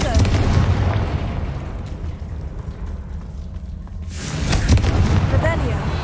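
Booming blasts from the Confringo blasting spell in Hogwarts Legacy, a sustained loud rumble that swells again near the end, with in-game dialogue heard during the blasts.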